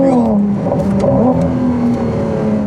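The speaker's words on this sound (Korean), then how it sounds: "it just screams. The sound is like funneling through something." A Ferrari V6 engine revs hard with a high, sustained whine that rises and falls slightly, loud and close throughout.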